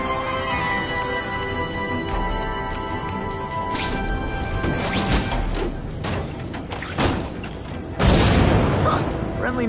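Fireworks burst in a Spider-Man video game, a run of booming cracks and whooshing blasts from about four seconds on, with a heavy final boom near the end over a low background hum.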